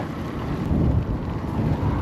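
Strong head-on wind roars across the microphone of a cyclist riding a gravel race in Occitanie. It is a loud, continuous, buffeting rush of noise with no pauses.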